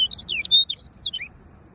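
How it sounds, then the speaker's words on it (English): A small songbird in Iceland sings a quick run of bright, warbling whistled notes lasting about a second, close and clear over faint background noise. "we spotted a cute little bird singing a song."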